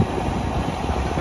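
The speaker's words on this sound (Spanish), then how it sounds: "Aquí anda el John Deere 5715 con los subsuelos" A steady, loud diesel engine of a John Deere 5715 tractor pulling subsoilers through heavy ground rumbles continuously up close, with no breaks or changes in pitch.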